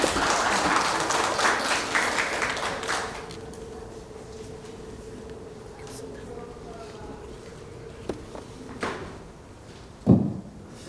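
Audience applause at a Liberation Day ceremony in Ulsan, a burst of clapping for the first few seconds that fades into a quiet room hum, with a couple of sharp knocks near the end.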